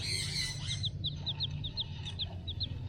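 Japanese bantam chickens of a show breed clucking and chirping in a rapid, fairly steady series of short high calls over a constant low background hum.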